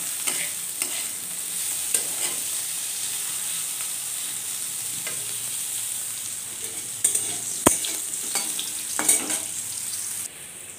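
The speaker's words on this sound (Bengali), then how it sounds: "তেলের মধ্যে আমটা দিয়ে দিয়েছি, আমটা দিয়ে একটু নাড়াচাড়া করে নিচ্ছি।" Mango and bitter gourd being stirred in hot oil, frying with a steady sizzle and occasional scrapes of a utensil in the pan, close and continuous with no talk.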